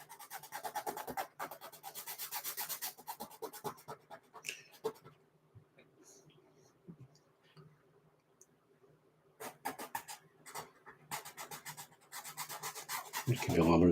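A sketching pen rubs and scratches over paper in quick back-and-forth shading strokes while dark areas of an urban sketch are filled in. Bursts of scratching are split by a quieter middle stretch, and there is no talking.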